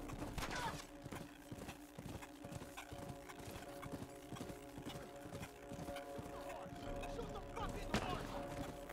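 Horse hooves in The Last of Us Remastered: a steady, even clip-clop of a single horse walking, fairly close, over a low sustained game ambience, with a brief louder rustle near the start and a sharp sound near the end.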